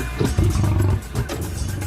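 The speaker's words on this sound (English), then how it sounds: "And the massive American lion." A prehistoric American lion roars in a documentary soundtrack, one deep, loud, rumbling roar that swells and then trails into a second growling phrase, with no talk over it.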